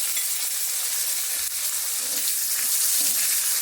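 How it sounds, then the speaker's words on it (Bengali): Garlic and dried red chillies sizzling in hot oil in a pan, a steady close-up crackle running evenly throughout with no voices. "এবার এইভাবে ভালো করে একটু ভেজে নিতে হবে"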